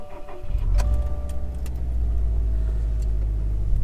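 A Subaru car engine cranks and catches after a brief click, then settles into a loud, steady idle close by, with no voices.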